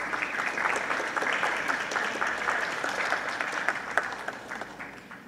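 An audience at a parliamentary hearing breaks into steady applause, moderately loud and continuous, with scattered individual claps standing out.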